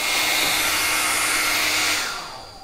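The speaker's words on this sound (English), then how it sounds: "I can lower the power and increase the power of the hairdryer." A hairdryer blasts at maximum power, a loud steady rushing whoosh close by, then winds down as it cuts out near the end.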